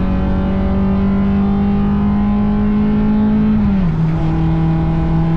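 A race car engine holding a steady high drone during wheel-to-wheel racing at The Bend circuit, loud and close as if onboard, then the pitch drops sharply at an upshift and settles lower, with no voices.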